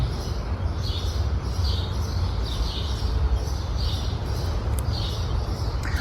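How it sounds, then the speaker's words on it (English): Birds chirp in repeated short bursts above a steady low background hum inside a Lowe's garden center, with no talking. "A lot of bird activity."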